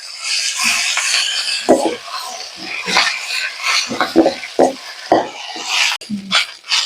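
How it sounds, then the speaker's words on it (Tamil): Thuthuvalai leaves are tossed and stirred in a pan, with scraping spoon-on-pan knocks and light rustling over a low sizzle, close and uneven. "இப்போ அந்த தூதுவளை அலசிட்டு வச்சிருக்கோமா, அதை போட்டு நல்லா வதக்கி எடுத்துக்கலாம்."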